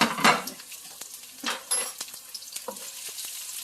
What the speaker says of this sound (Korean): 대파 마늘 생강을 볶아서 향을 내요